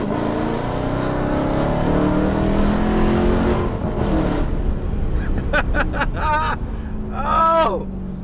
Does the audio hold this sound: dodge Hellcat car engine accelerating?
yes